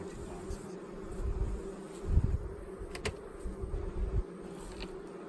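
Honey bees buzz in a steady, dense drone around an open wooden beehive, with soft knocks and handling bumps underneath.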